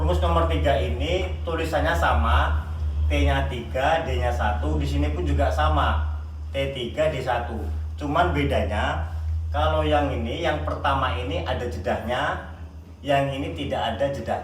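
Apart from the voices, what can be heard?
None of the usual background noises is heard.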